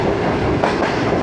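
A fast express train rushing past at Badami Bagh near Lahore, loud and close, with a dense rumble and clickety-clack of wheels over rail joints.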